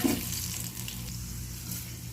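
Mustard seeds, cumin, green chillies and dry red chillies frying in oil for a groundnut chutney tempering, a steady close crackling sizzle running throughout with no talk.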